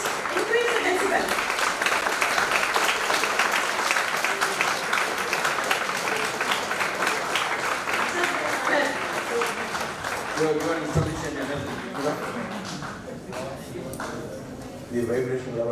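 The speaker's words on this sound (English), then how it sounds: "Clap your hands." An audience of students at a national seminar claps their hands, loud and dense at first, then thinning out and fading, with someone speaking over the clapping.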